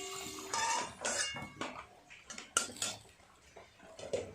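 Metal utensils clinking and scraping against a pan while fried potatoes for a chicken and papaya curry are lifted out, several sharp close clinks in an irregular rhythm with soft stirring between them.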